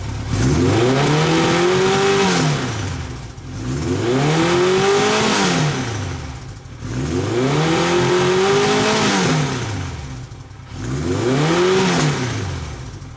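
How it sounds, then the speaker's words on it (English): A motorcycle engine revs high four times in steady cycles, each rising to a loud whine and dropping back between bursts. "I'll do a couple of high revs now, and you'll just kind of see how the bike sounds"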